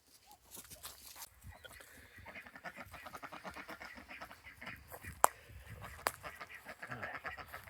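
Ducks quack and chatter softly in a backyard pen with a kiddie pool, a faint, steady stream of nasal calls with a couple of sharp clicks.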